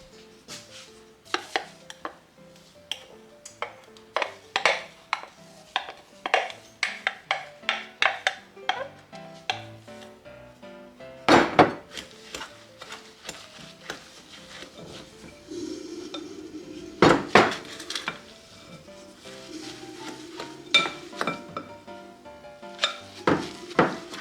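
Stiffened egg whites are mixed into macaroon batter in a bowl, with repeated scraping and tapping of a utensil against the bowl in an uneven rhythm and a few louder clinks, close and clear.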